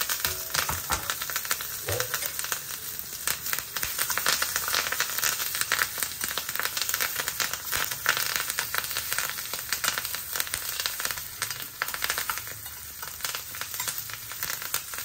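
Hot oil crackles and sizzles steadily as tempering spices and curry leaves fry for ridge gourd chutney, a dense close hiss with occasional stirring scrapes, no voices.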